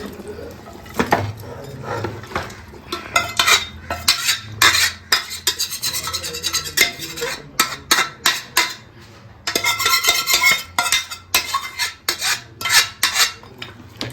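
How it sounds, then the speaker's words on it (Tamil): Beef curry stirred and mixed in a large pot, loud irregular scraping and metallic clanks of a utensil against metal, coming in bursts with brief pauses, plus some wet slopping. "இப்போ தான் கறியை மிக்ஸ் பண்ண போகிறாங்க."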